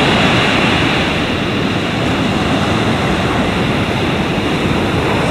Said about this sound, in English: The ocean looks a bit disturbed.